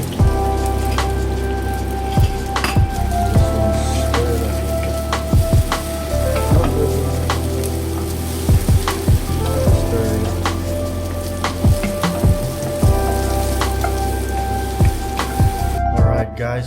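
Eggs fry in a pan with fish oil for a traditional Filipino breakfast, a dense, continuous crackling sizzle with scattered sharp pops and occasional utensil clinks throughout.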